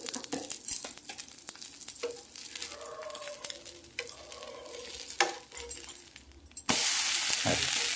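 A dosa of parboiled rice, urad dal, sago and flattened rice batter fries on a pan with a drop of oil, giving a steady close sizzle with a few scrapes and clinks, then a louder burst of hissing at the end.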